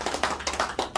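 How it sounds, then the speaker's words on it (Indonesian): A small audience gives a short burst of clapping after a presenter's remark during a health product talk, with a handful of sparse, uneven claps in quick succession at moderate volume. "Boleh tepuk tangan lagi sekarang buat saya"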